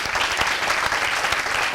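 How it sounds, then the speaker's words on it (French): Audience applause at a French roller-sports federation gathering, a dense steady burst of many hands clapping at close range, filling the short moment without any voices on top. "Et ça mérite qu'on vous applaudisse."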